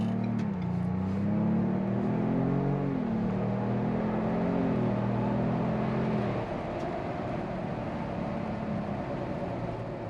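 A 2023 Ford Bronco Outer Banks SUV with the Sasquatch Package and 2.7-liter engine accelerates, its engine note climbing through gears for several seconds before settling into a steady, close cabin road hum.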